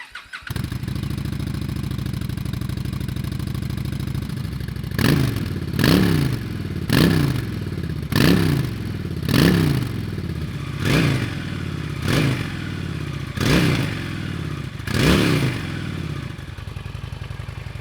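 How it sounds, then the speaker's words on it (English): A 2022 Honda Shadow Aero 750 cruiser motorcycle starts up and settles into a steady, loud idle, with a series of regular revs swelling over the engine's rumble, close by with no talk. "Now let's start the bike up and show you what it sounds like"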